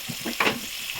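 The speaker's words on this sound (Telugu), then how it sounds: "సో నేను క్యారెట్, ఆనియన్స్ అండ్ పచ్చిమిర్చి, కరివేపాకు, కొత్తిమీర ఇవన్నీ నేను ఇక్కడ యాడ్ చేసేసుకుని ఫ్రై చేసేసుకుంటున్నాను" Carrot, onions, green chillies and curry leaves frying in a pan, a short, quiet sizzle with soft stirring scrapes and a brief brighter hiss in the middle, no voices.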